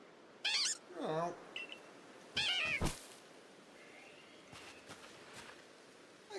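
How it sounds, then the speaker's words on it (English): A cat-like Pokémon in Pokémon Legends Arceus gives a few short rising meows, then faint rustling and light steps follow in a quiet scene. "Thanks for showing me your glad meow anyway."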